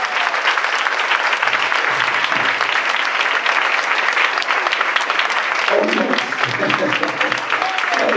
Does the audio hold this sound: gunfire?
no